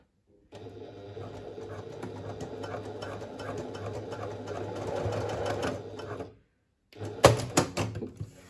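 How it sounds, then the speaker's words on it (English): A sewing machine bastes elastic along the edge of a fabric pouch, running steadily for several seconds at close range, pausing briefly, then giving a short final burst of stitching. "So now I'm just going to baste along there to secure that."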